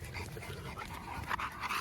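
A young XL Bully named King pants close by, quick rough breaths in an uneven rhythm with faint whimpering.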